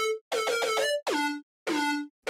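A chopped loop sample plays an unprocessed lead melody: bright, buzzy, horn-like synthetic notes in short phrases, some stuttering in quick repeats and others sliding down in pitch, separated by brief silences.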